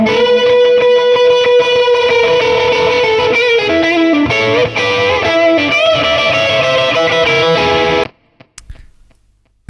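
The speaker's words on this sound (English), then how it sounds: "I'm just going to put some reverb and delay on that solo" A distorted electric guitar solo played through a Marshall amp plugin, washed with reverb and delay, rings loud and dense with sustained bent notes, then stops abruptly, leaving a few sparse decaying echoes.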